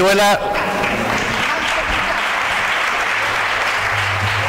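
A crowd breaks into sustained applause after a brief voice, steady clapping filling the room for several seconds.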